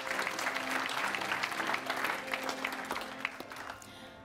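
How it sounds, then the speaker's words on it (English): An audience at a handball championship qualifiers draw event applauds warmly, a steady, fairly faint patter of clapping from a seated crowd that continues for several seconds. "Please give her a big applause."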